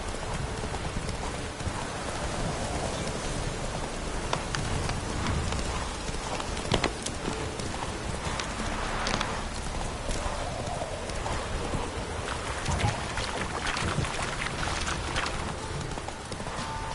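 Roach, a horse in the Witcher 3 video game, gallops through rain: steady, close clip-clop hoofbeats run the whole way over a constant wash of rainfall, with no talking.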